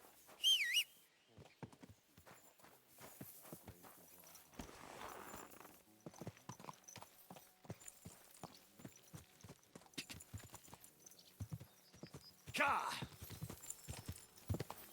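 Hooves clip-clop in uneven bursts alongside footsteps and occasional whistles in Kingdom Come: Deliverance II, with talking heard now and then.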